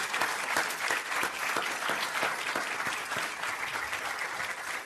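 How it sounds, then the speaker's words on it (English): An audience at the Mayor's Summit on Children applauds: dense, sustained clapping from a large room, steady throughout with no speech over it. "Will you all stand where you are, because you deserve a huge round of applause."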